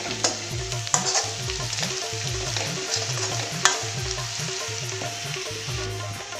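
Masala of tomato and chili powder stirred in a hot pan, sizzling and frying steadily throughout with repeated scraping strokes of the spoon against the pan, close and fairly loud, no voices.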